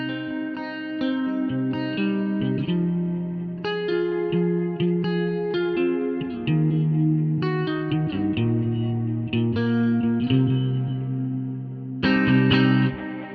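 An electric guitar tuned to drop C plays a slow chord progression through the baritone ambience preset of a Neural DSP Quad Cortex. Chords change every second or so and ring out with chorus and reverb, close and clear, with no talking.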